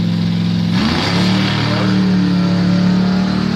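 A 1989 Mercury Grand Marquis doorslammer drag car at a drag race, its engine roaring loudly and steadily with a rising rev partway through, close and dominant.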